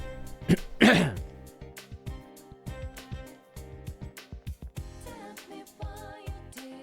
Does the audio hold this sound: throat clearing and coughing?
yes